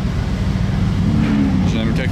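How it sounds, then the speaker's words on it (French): A carbon-bodied Porsche at a supercar gathering runs after starting, a loud, close low engine rumble that holds steady and swells slightly near the end, with people talking over it. "ils viennent de démarrer la Porsche Top Car là, tout au fond, celle en carbone. Ça a fait quand même un bruit vraiment fort"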